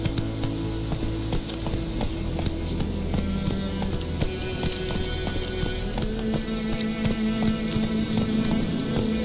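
Hoofbeats from Roach, the horse in The Witcher 3, come as a steady, fast clip-clop of galloping under continuous game music and ambience, moderately loud throughout.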